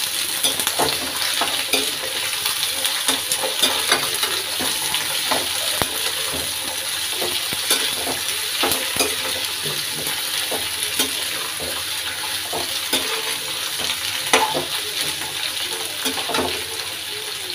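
Ivy gourd (kundru) frying with browned onions in a pan, giving a steady loud sizzle with frequent scraping clicks from stirring throughout, close and continuous.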